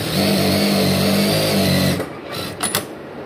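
A digital sewing machine driven by its foot pedal stitches with a fast, loud, steady mechanical whir for about two seconds, then stops, followed by a few light clicks and knocks.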